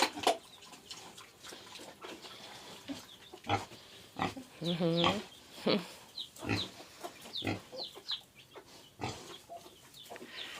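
Soft grunts from a sow come in short bursts, close by, with some quieter animal noises between them.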